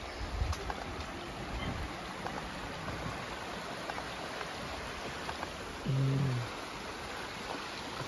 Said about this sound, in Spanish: O la cascada, escucha.